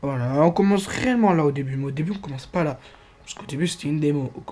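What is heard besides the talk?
No everyday noise stands out behind the speech.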